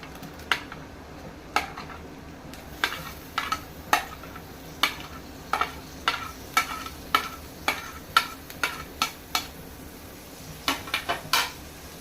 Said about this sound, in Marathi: आता ह्यामध्ये बारीक चिरलेला कांदा घालूया